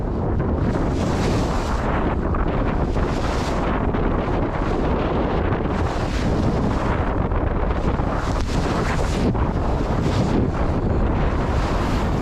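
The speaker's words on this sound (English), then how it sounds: "This is also what happens when you sail directly into the wind." Strong wind buffeting the microphone over the steady rush and slap of waves against a sailboat heading directly into the wind, loud and continuous with no voices.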